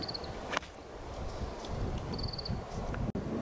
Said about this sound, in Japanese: かなりアゲンストの風が吹いている